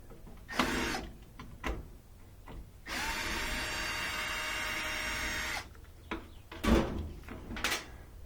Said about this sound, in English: I'm going to take out a few screws to get this panel off.